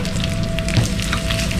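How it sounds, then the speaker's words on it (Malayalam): Chopped coconut pieces frying in ghee give off a steady, close sizzle, with a faint scrape partway through and a thin constant hum running underneath. "ഇത് ബ്രൗൺ കളർ ആകുന്ന വരുന്ന നമുക്ക് ഫ്രൈ ചെയ്തെടുക്കണം"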